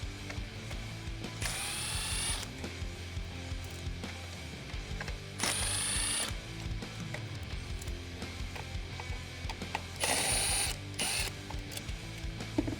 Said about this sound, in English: I'm using a Torx socket, a small extension, and my electric drive